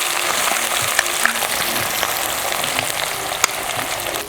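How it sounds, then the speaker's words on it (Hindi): Cumin seeds, garlic and onion fry in hot oil in a kadhai with a continuous close sizzle and a few faint clinks, no voices present. "ये हमारा तेल गर्म हो गया, मैं इसके अंदर जीरा डाल रही हूँ और लहसुन, और अब डालेंगे हम प्याज"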